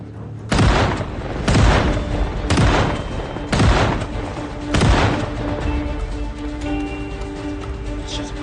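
Gunfire in the zombie survival game Project Zomboid: five heavy, booming shots spaced about a second apart, each with a long echoing tail, then quieter rumbling background with no talk.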